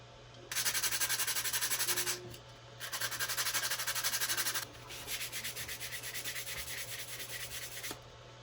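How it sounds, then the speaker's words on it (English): Sandpaper rubbed along the edges of a Stormtrooper costume part: three long, steady scratchy sanding passes with short pauses between, close and clear with no talk. "now I'm going to finish it off with sandpaper, make those edges nice and smooth"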